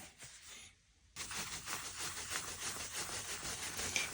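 Polishing compound is buffed by cloth into the finish of a Gibson Goldtop guitar, making a close, continuous rhythmic rubbing with repeated back-and-forth strokes after a brief pause.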